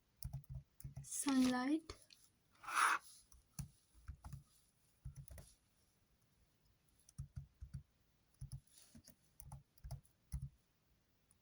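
Keyboard keys tapping in short irregular bursts, fairly close and light, with a person speaking briefly near the start and pauses between clusters of keystrokes.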